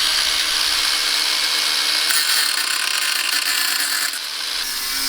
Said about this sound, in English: just trimming down one of these seatbelt bolts